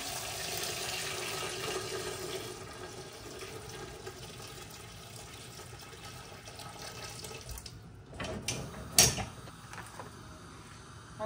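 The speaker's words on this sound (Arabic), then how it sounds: "انا كنكب الماء ديريكت" Water splashes from a container into a cooking pot while Moroccan harira soup is being made, a fairly quiet continuous pouring at close range, followed by a few louder clunks and knocks near the end.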